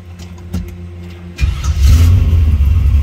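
A 1966 Chevrolet Nova SS engine cranks briefly, catches, and roars into a loud, throaty idle with revving, close by.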